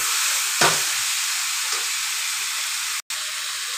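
Chicken meat frying slowly in a pan, a steady close hiss and sizzle running throughout, with a brief stir around the middle and a short gap near the end.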